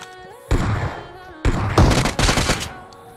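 UMP submachine gun in PUBG Mobile fired in two close, loud bursts of rapid shots, the second burst longer and choppier, over faint background game music.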